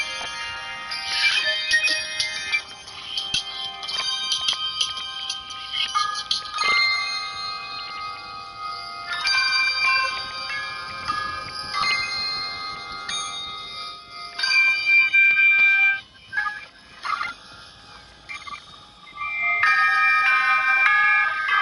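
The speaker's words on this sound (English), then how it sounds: "There's beatboxing and bells in this song." Bright, ringing bell tones in a song sound in clustered, repeated patterns with small gaps and dropouts, forming a continuous melodic chiming line with no talk over it.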